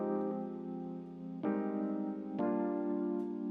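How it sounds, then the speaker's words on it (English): Acoustic piano layered with a vintage Rhodes electric piano playing MIDI parts in Keyscape, sustained mellow chords with two fresh chord attacks about a second apart, warm and clear with no talking. "One is this acoustic piano, and the other is this vintage vibe Rhodes."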